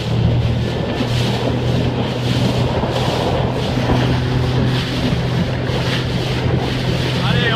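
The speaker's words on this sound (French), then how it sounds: "On va mettre un peu les gaz parce qu'ils arrivent déjà là-bas." A motorboat's engine drones and accelerates on open water while following a sailing race, with strong wind buffeting the microphone and water rushing past the hull throughout.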